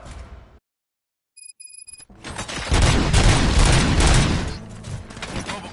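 Gunfire in Robocop: Rogue City breaks out after a brief silence and a few electronic beeps, swelling into loud, dense bursts of shooting that carry through to the end.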